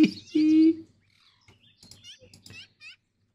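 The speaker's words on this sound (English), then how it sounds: "Yellow-billed magpie" A yellow-billed magpie call in a Minecraft Sonorama mod gives one loud, harsh squawk at the start, then a run of softer, scattered chirps and chatter follows with quieter gaps between them.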